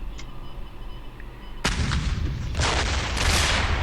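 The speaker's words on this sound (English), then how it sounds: "Unit destroyed." Heavy artillery booms erupt in the WWII card game KARDS, a sharp blast followed by overlapping rumbling shots and roaring explosions, loud and close.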